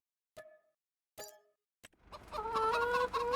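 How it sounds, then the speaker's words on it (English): Chickens in Farming Simulator 25 give three short, separate clucks, each followed by a pause. A louder, continuous run of clucking and squawking from the flock then takes over and carries to the end. "The chickens have arrived, and I think this is the rooster."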